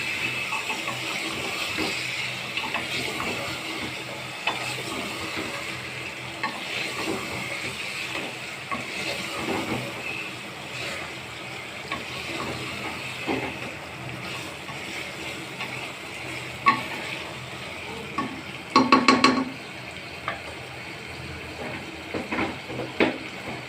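Mutton is stirred into a fried spice masala in a home kitchen pan: continuous sizzling hiss with scraping stir strokes throughout and a short burst of louder clinks near the end.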